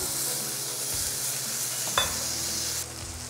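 Small pineapple pieces sizzling steadily in a hot pan while being stirred, a constant close crackle with one sharp utensil knock near the middle and the frying dipping slightly toward the end, no voices.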